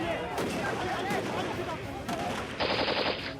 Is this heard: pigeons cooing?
no